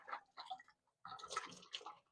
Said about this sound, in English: Just a quick little rinse.